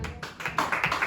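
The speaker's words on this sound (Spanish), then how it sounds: "Démosle un fuerte aplauso al Señor." Brief burst of church congregation clapping, quick overlapping claps rising in density over about a second, moderately close with no voices over it.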